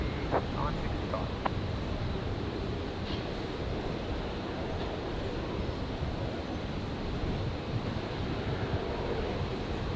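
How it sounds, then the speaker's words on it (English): A Virgin airliner on approach into Brisbane airport from Sydney on a stormy night gives a steady, broad engine roar that holds evenly throughout, with a voice speaking over it. "Next arrival, Virgin 965 coming in from Sydney"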